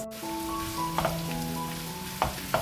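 Onions softening in a pan for a keema karela dish give a soft, steady sizzle, close and fairly quiet, with a few faint clicks or stirring taps and no talking.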